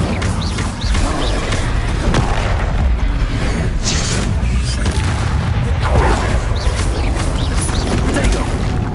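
An Incendio fire spell bursts repeatedly in a Harry Potter video game, amid a continuous loud roar of booms, crackling blasts and rumbling combat effects, dense and close with no pauses.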